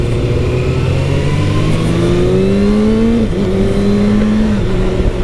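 A 2019 Kawasaki ZX-6R motorcycle engine pulls through rising gears with a sloppy quickshifter, its quiet exhaust note climbing in pitch with a brief shift drop, steady and fairly close.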